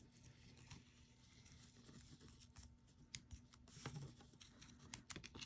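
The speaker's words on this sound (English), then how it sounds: "We're going to take our scissors" Quiet, repeated snipping and crisp clicks of scissors cutting through card paper, irregular and close, with soft rustling between cuts.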